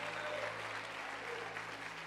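A church congregation applauds during a sermon, dense continuous clapping from many hands filling the hall over a low steady hum.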